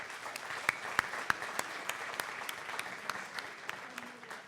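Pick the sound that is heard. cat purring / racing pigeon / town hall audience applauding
town hall audience applauding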